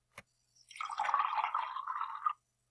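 Liquid pours from a cone into a cylinder, a short steady gurgling trickle of about two seconds after a single small tap, close and quiet with silence around it.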